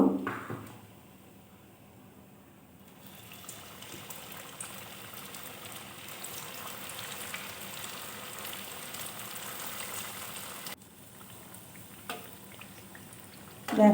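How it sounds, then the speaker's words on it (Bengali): Semolina snacks fry in hot oil with a steady, soft sizzle and bubbling that holds for the whole stretch at moderate-low volume. There is no talk. "এইভাবে আমি বাকি সবগুলো ভেজে নেব"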